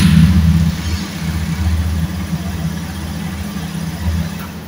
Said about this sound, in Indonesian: Hidupkan sepeda motornya.